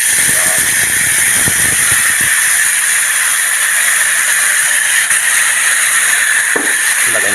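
Sweet and sour sauce for a fish fillet hits a hot pan, bursting into a loud, steady hiss and sizzle that carries on without a break, with faint clatter underneath.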